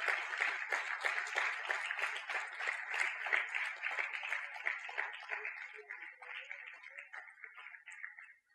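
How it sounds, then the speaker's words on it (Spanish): A church congregation breaks into rapid, fairly distant applause, crisp and dense at first, then thinning and tapering off toward the end without any voices. "Denle un aplauso al Señor"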